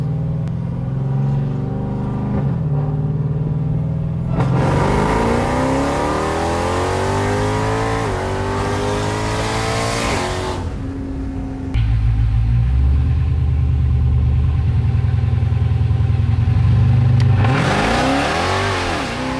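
A tuned 1000 hp Jeep Trackhawk launches and accelerates hard, its engine rising through the gears in loud sweeping revs with brief dips at shifts, then roaring up again close by.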